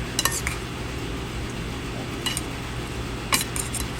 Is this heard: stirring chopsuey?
yes